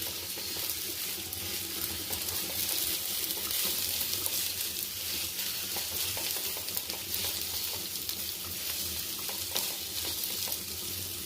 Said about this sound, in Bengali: কাঁচা লঙ্কা, সামান্য চিনি ভালো করে চালগুলোকে একটু ভেজে নিতে হবে